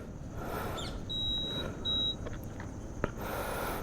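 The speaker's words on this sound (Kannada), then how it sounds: "ಸೊ ನಾವಿವಾಗ ಸ್ಟಾರ್ಟ್ ಮಾಡ್ಬೋದು ಗಾಡಿನ ಇಲ್ಲಿ ಪ್ರೆಸ್ ಮಾಡಿದ್ರೆ" A Hero electric scooter is switched on and started, giving a few short electronic beeps and a sustained tone, with faint clicks and a soft hum in a quiet setting.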